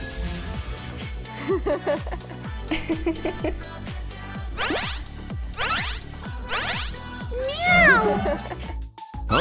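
A human voice imitates a cat, giving a long series of close, clear meows and a few drawn-out yowls over a steady rhythmic musical backing.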